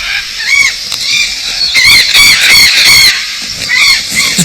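Harsh, raucous bird calls ring out loud and close in the Amazon rainforest, several squawks in quick bursts, some overlapping, like parrots or parakeets.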